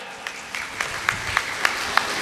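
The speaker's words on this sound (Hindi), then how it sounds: "जोरदार तालियों से स्वागत" An audience at a devotional Bhagavat katha gathering claps in a steady rhythmic beat, with a bright run of regular claps over a continuous crowd background.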